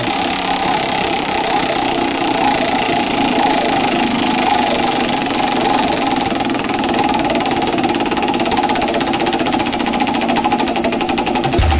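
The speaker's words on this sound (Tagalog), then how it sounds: "paikutin ang roleta ng kapalaran" A wheel of fortune spins on a radio show, giving a steady, loud, rapid clicking whir that runs evenly for about twelve seconds before stopping abruptly, with no voices over it.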